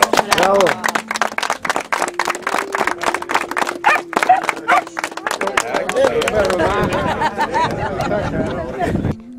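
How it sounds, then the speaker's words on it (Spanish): A crowd at a memorial tribute gives loud, close applause of distinct sharp claps, with a voice and chatter underneath that grow more prominent toward the end. "el pueblo les brinda un aplauso de reconocimiento"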